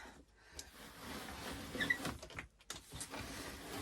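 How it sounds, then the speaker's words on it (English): A die cutting machine rolling batting strips through a Studio die gives a quiet, uneven mechanical whirr with soft rattles and clicks over about four seconds, close but faint, with no talking. "I lay my material down on the Studio die, and I'm just going to roll this thing through"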